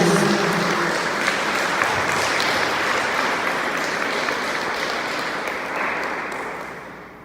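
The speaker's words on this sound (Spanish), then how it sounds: "Yo le voy a pedir que le dé un fuerte aplauso a Dios por la vida de mi esposo" At a Sunday church service, the congregation breaks into a loud, sustained round of applause to God, a thick wash of clapping from many hands that holds steady for seven seconds before tapering slightly at the end.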